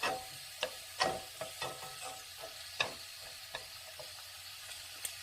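Burdock root simmers in seasoning sauce in a pan with no added water, giving a faint, steady bubbling hiss broken by scattered soft pops and ticks.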